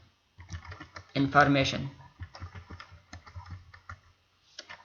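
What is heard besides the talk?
typing on a computer keyboard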